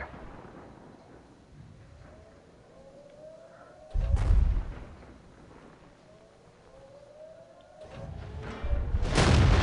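Two loud, booming tank cannon shots from the World of Tanks game, one around four seconds in and another near the end, each with a heavy low rumble over a steady background of engine noise.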